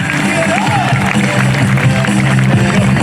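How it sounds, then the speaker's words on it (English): A crowd at the 2022 Blue Angels Homecoming Air Show breaks into loud, sustained applause, a thick continuous clatter of hands with music playing underneath. "I hope you'll give a big round of applause right now to Ken Rieder and Adam Baker."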